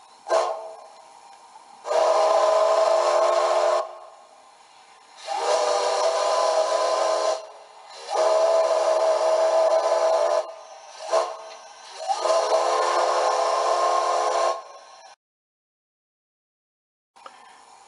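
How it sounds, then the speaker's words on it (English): A Rio Grande RGS 41 steam whistle sound sample from a DCC sound decoder for an On3 K36 model locomotive, blown in five loud, sustained blasts of one to two seconds each with short gaps between them and no talk. "we'll just have a listen to the Rio Grande RGS"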